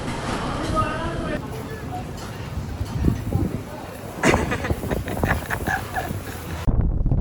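Strong wind buffets a microphone at the Tiger Point viewpoint near Lonavala, giving a loud, gusty rumble with bursts of hissing roar and voices underneath.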